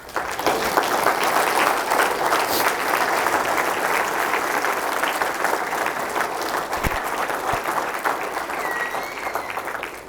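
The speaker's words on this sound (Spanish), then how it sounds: "levántate y darle una ofrenda de palmas al Señor" A church congregation claps as an offering of praise during a Sunday sermon service, a dense, steady roar of many hands lasting throughout, with faint crowd murmur and no clear speech.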